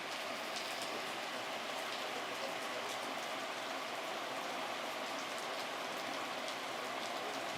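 Heavy rain falls outdoors on an open-air yoga camp at an old grain market, a dense continuous hiss of drops on surfaces with no voices.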